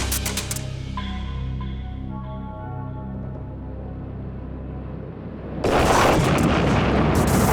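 Naval mines detonate beneath the German battleship Tirpitz: after a quieter stretch, a loud, dense roar of explosion bursts in near the end and keeps rumbling to the close.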